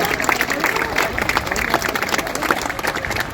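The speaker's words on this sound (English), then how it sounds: "applause for that." Crowd applause at the Cracker Fair horse showing, a loud, busy patter of many hands with some crowd murmur mixed in.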